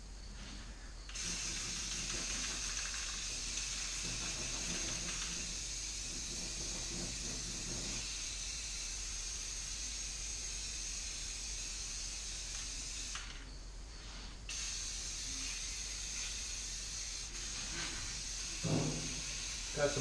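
An aerosol can of rust coating sprays onto the floor of a school bus being converted, giving a steady close hiss that runs almost the whole stretch. It breaks off briefly twice with short pauses, and no speech is heard.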